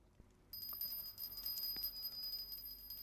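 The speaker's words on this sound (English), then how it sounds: "please ring the bell as you do so." A hand bell rings during a Hindu puja incense offering, a steady sustained high metallic ringing that starts after a brief quiet moment and continues throughout, fairly faint with soft background noise.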